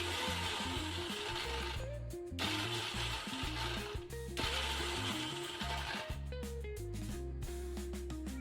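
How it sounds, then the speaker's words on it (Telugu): A mixer grinder whirs loudly as it blends beetroot with water in a mixie jar, running in continuous bursts that briefly stop and restart, close up. "ఆ బీట్రూట్ మొత్తం మంచిగా బ్లెండ్ చేసుకోవాలి"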